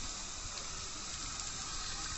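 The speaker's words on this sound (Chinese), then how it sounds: "这边还有个水龙头，" A water tap at a roadside stop near Bifengxia, Ya'an, runs continuously and cannot be shut off, giving a steady, faint hiss of flowing water with no voices.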